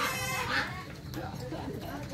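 Chickens clucking at a rural market in the Mekong Delta, with a few short cackles and clucks heard close by beneath busy market chatter and people talking.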